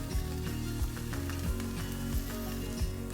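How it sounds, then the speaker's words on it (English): Broccolini, shimeji mushrooms and bamboo sauté in a pan with olive oil, giving a soft, steady sizzle under a faint low hum, with no voices. "Saute the veggies for 5 to 7 minutes."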